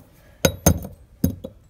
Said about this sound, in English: Need a few more taps to loosen it up right here.